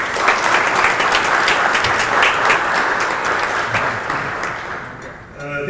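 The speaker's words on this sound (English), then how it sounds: "And for this I ask you all for a big round of applause." Audience applause at an event marking the Jakarta–Berlin city partnership, steady dense clapping from a large crowd that fades slightly near the end as a voice begins.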